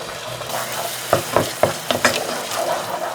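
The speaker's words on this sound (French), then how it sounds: "je saisis dans une casserole avec un peu d'huile d'olive" Onion and garlic sizzle steadily in olive oil in a saucepan while a utensil stirs them, with a few sharp scraping clicks against the pan.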